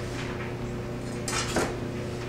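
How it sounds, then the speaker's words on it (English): A kitchen knife being scraped and wiped clean after chopping spinach, a brief metallic clink and scrape near the end over a steady low background hum, with no talking. "Clean off my knife."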